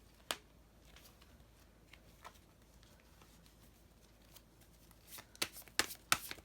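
Cards are shuffled before drawing a reading: quiet, scattered soft riffles and clicks at first, then a cluster of louder, sharper shuffling bursts toward the end, with no voice.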